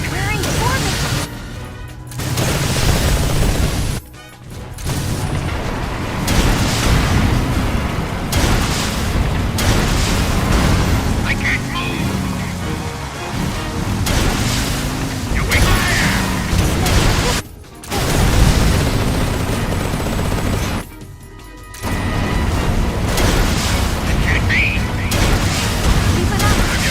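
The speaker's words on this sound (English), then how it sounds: "Incoming missiles." Missiles explode in Metal Gear Solid Delta as repeated booms and crashes among mechanical noise and game music, with voices talking over much of it and brief silent gaps between bursts.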